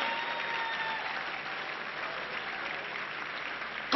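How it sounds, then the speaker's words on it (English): Church congregation clapping steadily, a sustained patter of many hands at even loudness, heard a little distant and filling the whole stretch, with a brief louder burst right at the end. "I thought you would clap more than that."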